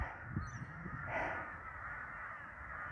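Crows caw from down below near an army base, a few short, faint calls heard at a distance over quiet outdoor background noise.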